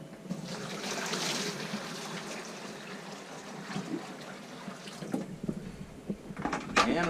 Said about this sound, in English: We'll fill this with water as well.